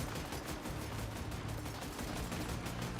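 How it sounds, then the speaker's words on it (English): Enemy gunfire in the video game Death Stranding 2, a dense, steady rattle of shots that fills the whole moment without any talk. "I'm being shot at constantly."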